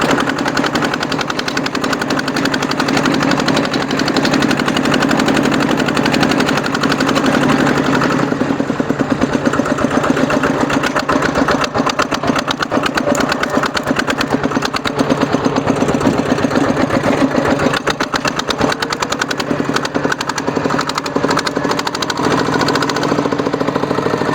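A modified farm tractor engine, fitted with a rotary tiller for cassava and sugarcane rows, runs steadily in second gear, its loud continuous knocking chug holding close and unbroken throughout.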